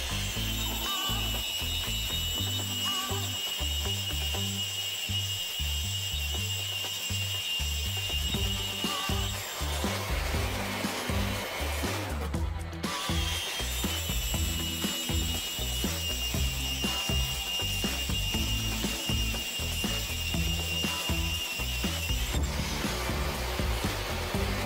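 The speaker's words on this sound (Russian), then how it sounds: "Таким образом просверливаем три отверстия." A core bit grinds steadily through ceramic wall tile, a continuous gritty whine running for a long stretch with a brief pause midway, loud and close with no talking.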